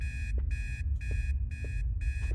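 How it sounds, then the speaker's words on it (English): Electronic beeping in the horror game Obsideo, a steady repeating alarm of five evenly spaced bright tones, close and insistent over a low background hum. "And has left a really annoying beeping noise."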